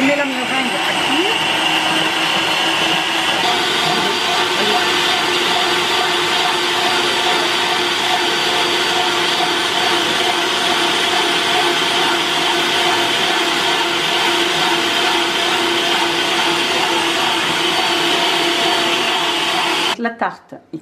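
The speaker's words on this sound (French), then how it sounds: "Je mets les blancs d'œufs dans le mixeur ou alors avec un batteur électrique." A loud, steady electric mixer whips egg whites into meringue, its motor whine holding constant for nearly twenty seconds before cutting off abruptly.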